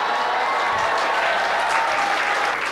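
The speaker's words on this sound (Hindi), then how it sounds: "तालियां कमजोर हो गई" Audience applause at a Hindi kavi sammelan poetry recital, a dense, steady round of clapping from a sizable crowd lasting a few seconds with no talk.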